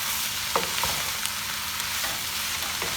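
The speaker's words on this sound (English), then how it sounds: "Stir it, mix all, let it toast, fry the spinach with the onion a little bit." Spinach and onion frying in a pan while being stirred, a steady close sizzle with occasional soft scrapes and clinks from the spoon, no voices.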